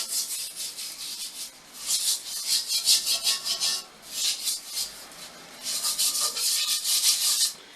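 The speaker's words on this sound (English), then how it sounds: "you just take a steel pad and you just scrub it" A steel pad scrubs a cast iron pot in repeated rough back-and-forth strokes, bursts of harsh, gritty rasping separated by short pauses, close up and with no speech.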